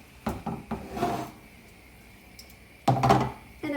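A utensil stirs shrimp, bulgur and leftover vegetables together in a skillet. Several quick clunks and scrapes come first, then a quiet pause, then another burst of clattering stirring near the end.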